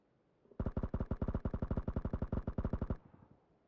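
A sustained automatic burst of about two dozen rapid, evenly spaced gunshots rings out in a PUBG match, loud and close for over two seconds before cutting off with a faint echo.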